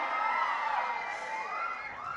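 An audience at the KRAMP Rampage celebration event cheers and shouts for Bandla Ganesh, a steady roar of many voices at moderate loudness with no distinct clapping standing out.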